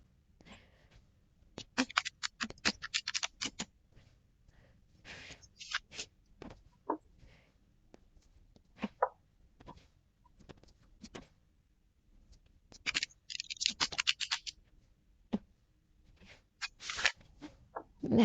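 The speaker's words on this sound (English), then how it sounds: "Now I'm going to give these a very good shuffle" A deck of tarot cards is shuffled by hand in split piles, bursts of crisp riffling and slapping in irregular clusters with quiet gaps between, close and fairly faint.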